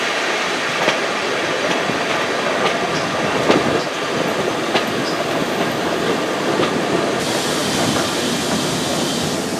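A train rolls past on the rails at Didcot Railway Centre with a steady rumble, rhythmic clicks from the wheels and a brief high squeal near the end.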